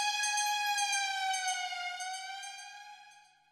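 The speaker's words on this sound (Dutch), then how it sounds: "Een brandweerauto." Fire engine siren sounding alone at night, a single sustained wailing tone that slowly falls in pitch and fades away into the distance.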